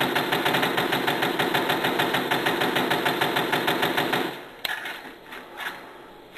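Rapid-fire gunfire in a video game, slowed by a rapid-fire controller mod set to mode 3: an even, rhythmic stream of quick shots runs for about four seconds, then cuts off, leaving a few scattered quieter sounds.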